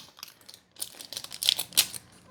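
Scissors cutting open a bag of yellow cake mix, a run of close crinkling plastic and sharp snips with a few brighter crackles toward the end, no voices.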